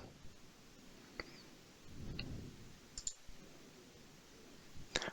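A computer mouse clicks sharply several times in a quiet room while files are opened in bagpipe notation software, the clicks scattered and separated by pauses.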